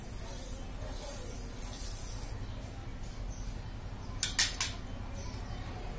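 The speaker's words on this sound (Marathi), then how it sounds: "तर आता आपण साखर टाकूया. एवढी सगळी साखर टाकायची आहे." Sugar poured into a bowl while making lemon sherbet (limbu sarbat): a short, soft granular hiss near the end, over a steady low background hum.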